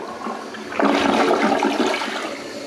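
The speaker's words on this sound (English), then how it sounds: "let's see how it flushes when it's inside the house compared to outside" Kohler Kingston toilet flushing indoors in a house: a strong rushing surge of water kicks in under a second in and roars steadily, then eases slightly toward the end, heard alone and close.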